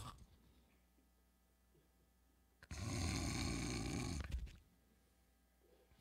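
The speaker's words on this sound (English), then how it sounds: "Who's snoring?" A person snores in church: one long, rasping snore lasting under two seconds, fairly close, standing out alone against an otherwise quiet room.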